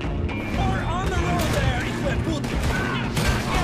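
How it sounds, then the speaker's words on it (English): Several irregular gunshots ring out from a Western-style firearm in Red Dead Redemption 2, loud and sharp over a dense bed of game noise, with voices talking in the background. "That was such a great shot."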